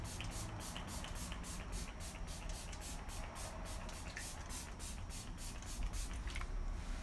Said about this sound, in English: I like a lot of setting spray, you guys will see.